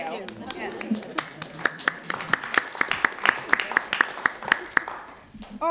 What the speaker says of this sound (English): I'm going to ask you to hold your applause until every candidate has given his or her closing remarks